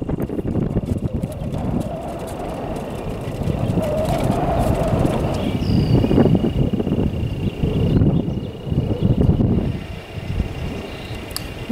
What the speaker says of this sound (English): Ooh, it's so windy out.